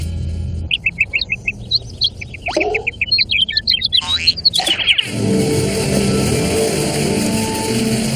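Rapid, high chirps and tweets from small birds come in quick repeated bursts. Near the end they give way to a steady rushing background noise.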